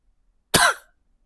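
One sharp, close cough bursts out and fades within a fraction of a second, alone against near silence.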